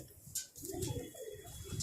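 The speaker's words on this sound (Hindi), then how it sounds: "आज सियालकोटी कबूतरों को शो करवा रहे हैं उस्ताद आशीष गुप्ता जी, राजीव भैया" Sialkoti pigeons coo on a rooftop loft in Udhampur, several soft throaty coos repeating close by over a light background, with no talk.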